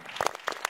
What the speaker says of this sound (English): Clap it up for the black man